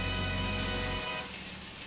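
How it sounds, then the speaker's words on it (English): Steady rain falls in New Donk City in Super Mario Odyssey, a constant hiss of drops on the city streets, loud and even throughout. "There's a cool rain effect, though."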